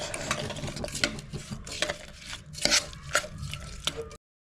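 A spoon stirs mashed lentils with jaggery melting in a pot on the stove, giving scraping, clattering strokes in an uneven rhythm, close and fairly loud, with no talking.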